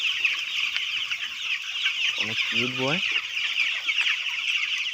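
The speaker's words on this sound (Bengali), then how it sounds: "তো মোরগগুলো অনেক সুন্দর দেখা যাচ্ছে," Roosters cluck on a hot afternoon, a short run of rhythmic clucks in the middle over a constant buzzing insect-like background, with a voice speaking briefly.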